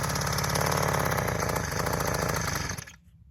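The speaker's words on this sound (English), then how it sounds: "Get this tiller fired up behind me and get to work." A garden tiller's small engine roars loudly and steadily at high revs close by, then cuts out abruptly near the end, leaving quiet.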